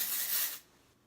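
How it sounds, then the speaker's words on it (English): A short hiss of hair spray misted over curled hair, a half-second burst that fades quickly into quiet. "So you just spray that all over"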